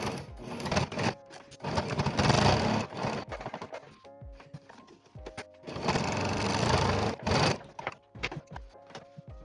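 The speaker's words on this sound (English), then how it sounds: "I'm going to sew one fairly close to the seam" Domestic sewing machine stitching the pocket seams of a pair of dungarees, running in steady whirring bursts with short stops and clicks between runs.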